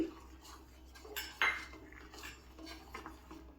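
Metal spoon stirring almond powder into sweetened milk in a pot while making badam kulfi, with soft scraping clinks and a louder clatter midway, fairly quiet and close.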